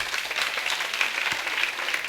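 Audience applause at a live stand-up comedy show in 1989, a steady wash of clapping from a crowd, moderately distant and even throughout, with no voices on top.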